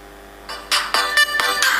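A mobile phone plays its original ringtone: a tone that starts softly, then breaks into bright, loud repeated electronic notes with short gaps, close and alone.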